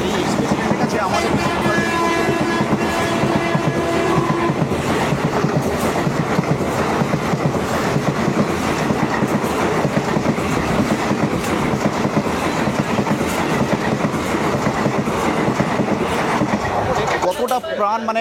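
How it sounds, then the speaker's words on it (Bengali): The Tamralipta Express passing close by, a loud, continuous rumble with clickety-clack of wheels over rail joints, and a voice speaking over it. "এই হচ্ছে আমাদের তাম্রলিপ্ত এক্সপ্রেস।"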